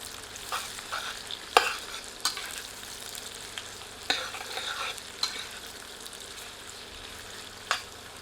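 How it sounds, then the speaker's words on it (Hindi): Chopped onions fry over medium heat for a guinea fowl curry, with a steady soft sizzle broken by sharp spoon scrapes and clacks against the pan every second or so, close up and without talk. "इसे मीडियम हीट पर तब तक भूनते हैं जब तक कि प्याज ट्रांसलूसेंट नहीं हो जाती।"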